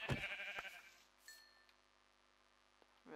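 A Minecraft sheep gives a single short bleat near the start, fairly faint, followed by a soft clink and quiet stillness.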